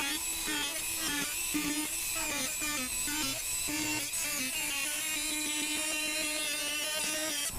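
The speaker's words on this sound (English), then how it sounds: "And so here he's going to start cutting with the Dremel." Dremel rotary tool cutting a plastic front bumper on a 5th-generation 4Runner: a continuous high-pitched whine that wavers in pitch as it bites, steady and fairly loud throughout.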